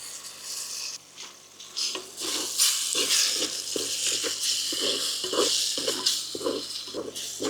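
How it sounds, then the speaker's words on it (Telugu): Ground tomato paste hits a hot oiled pan with chilli, sizzling loudly and spattering, then settles into a steady crackling fry with intermittent stirring scrapes up close. "ముందుగా నూరి పెట్టుకున్న టమాటాలు వేసేసుకుందాం"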